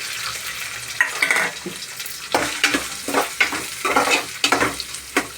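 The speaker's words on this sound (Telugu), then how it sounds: "కొంతసేపు వేగనిద్దామండి ఉల్లిపాయలు వేగిపోయండి" Onions frying in hot oil with mustard seeds, green chillies and curry leaves, a steady close sizzle broken by repeated stirring scrapes, with no talking.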